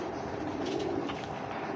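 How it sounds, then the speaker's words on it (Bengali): A khaki pigeon coos softly and close by in a short, low murmuring call, with faint background hiss. "ভাই, খাকি কবুতর"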